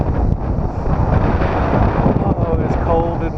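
Cold wind buffets the microphone on a rocky North Atlantic shore near Pemaquid Point Lighthouse in Maine, a loud, steady roar of gusts, with surf likely mixed in, filling the whole stretch without a break.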